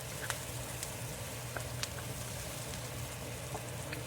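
Luncheon meat and onion frying in a pan for fried rice, a steady soft sizzle with scattered small pops and crackles, close and fairly quiet, no talking.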